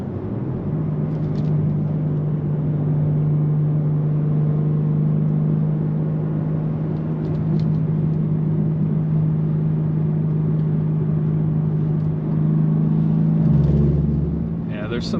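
A 2024 BMW M3 with a six-speed manual is driven hard through corners, its engine a steady loud drone throughout with a brief rise in revs near the end.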